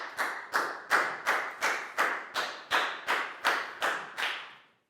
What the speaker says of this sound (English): Big round of applause for Net,